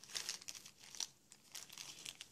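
A plastic bag holding screws and a propeller shaft for a DYS BE1806 brushless motor crinkles as it is opened, giving quick, close, rustling bursts in an irregular rhythm with no talking.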